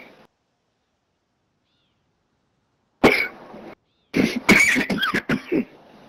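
A few sharp coughs break a silence in a Call of Duty match, close and loud, coming in two short bursts with a throat-clearing quality.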